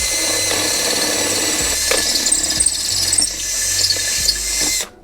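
Power cutting tool biting through aluminum on a brake booster hose manifold, a loud continuous high whine with small squeals and pitch dips as the blade loads, ending abruptly.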